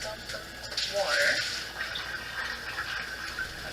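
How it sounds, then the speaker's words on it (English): Water splashing and pouring out into a sink, a short gush with running water sounds, moderately close. "First, I'm going to dump the water."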